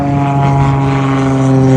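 A propeller airplane passes low overhead, its droning engine hum steady, loud and close for the whole moment, heard alone with no talk.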